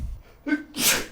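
A single person sneezes close to the microphone, a short indrawn breath followed by a sharp, loud burst.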